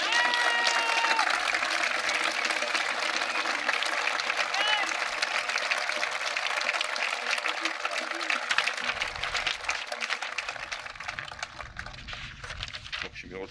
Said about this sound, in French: Pour soutenir ce grève, nous pouvons les applaudir.